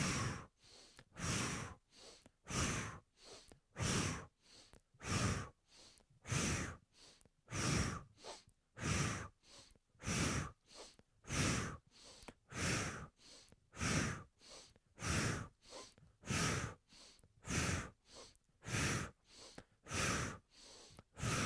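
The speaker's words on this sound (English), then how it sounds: "Now inhale to the left and exhale to the right." Slow, deep yoga breaths are close and quiet: a long, steady series of inhales and exhales in an even, unhurried rhythm, each breath rising and falling as a soft airy rush.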